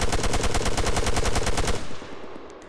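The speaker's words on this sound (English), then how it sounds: "Fully automatic fire mode should be used only in extremely close quarters" An MX 6.5 mm rifle in Arma 3 fires on full auto, a fast even string of about fifteen loud shots that ends abruptly and leaves a fading echo.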